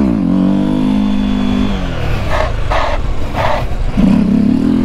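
A Honda CB 300F Twister motorcycle fitted with a stunt protector revs close by on a straight, its engine note climbing, dropping through a couple of gear changes and rising again, loud and alone.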